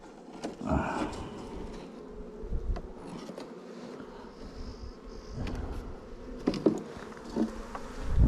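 Honeybees buzzing around an opened hive with fresh comb on the lid, close and busy, individual bees swelling loudly past now and then over a softer hum.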